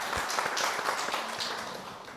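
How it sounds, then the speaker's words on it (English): Applause from an audience at an urban transformation closing session, a dense steady wash of many hands clapping at moderate distance, sustained evenly throughout with no voices over it. "Please join me in giving a round of applause to her"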